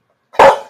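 A single dog gives one short, loud bark, close by and alone, with silence just before it.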